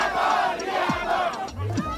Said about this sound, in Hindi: इस दौरान बालेन शाह सरकार मुर्दाबाद के नारे लगाए गए।